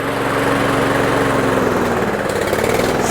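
A rough-running lawn mower engine on ethanol-free fuel, loud and close, with a pulsing throb that surges unevenly and shifts pitch near the end.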